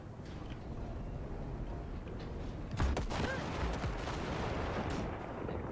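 Blasting gunfire aimed at floating wrecks in Cyberpunk 2077: Phantom Liberty, from the Basilisk cargo ship, with a few sharp shots and louder bursts over a steady rumbling engine background.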